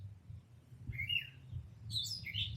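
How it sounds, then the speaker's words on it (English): Birds chirp in a couple of brief, high bursts, fairly near, over a low rumbling background hum. "those birds are talking."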